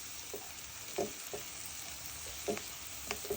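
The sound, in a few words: potatoes frying with fish roe in a pan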